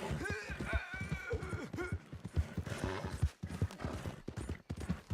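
Horse hooves clip-clop steadily while riding north through bad weather in the video game Red Dead Redemption 2, a rhythmic trot under music and ambient game sound.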